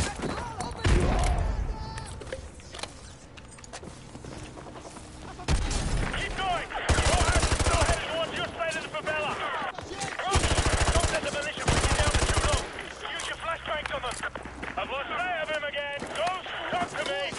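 Bursts of rapid automatic gunfire from a video game's No Russian mission, loud and close, coming in several sustained volleys with short gaps between them.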